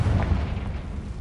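A Confringo blasting spell explodes in Hogwarts Legacy, a heavy low boom that hits hard at the start and rolls on as a dense rumble for about a second.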